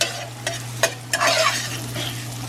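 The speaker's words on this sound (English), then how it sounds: "I'm going to saute that around, or mix that in a little bit" Minced jalapeno and a teaspoon of cumin sautéing in a pan, a close crackling sizzle broken by several quick scraping strokes of a utensil, with a low steady hum underneath and no voices.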